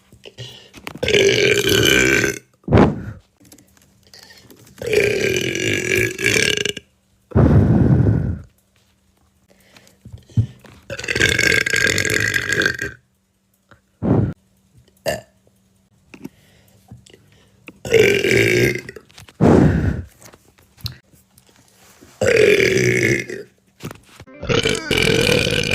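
A woman lets out a string of loud belches, about seven, separated by short pauses, with occasional clicks and breathy sounds in the gaps.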